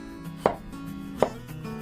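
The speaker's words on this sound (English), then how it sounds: "Next, cut the ginger into thin slices." Two crisp knife strikes on a cutting board as ginger is sliced thin, spaced less than a second apart, close and clear with no voices.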